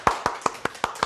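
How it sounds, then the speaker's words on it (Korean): Six sharp, evenly spaced claps ring out in a quick, steady rhythm, close and clear. Fitting for a host calling for applause at a live-streamed talk, though it sounds like a single pair of hands rather than a crowd. "커다란 박수로 모시고 여러 가지 얘기들 한번 나눠볼게요. 박수 부탁드립니다."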